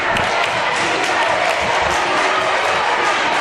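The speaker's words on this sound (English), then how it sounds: "Crowd definitely into it here at Provine High School." High school basketball crowd at Provine High School roars with sustained cheering and applause, loud and dense throughout, with no break in the noise.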